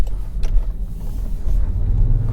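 A Jaguar I-Pace 400 EV electric car accelerating gives off a steady, close, low rumble somewhat like a V8, with no talking.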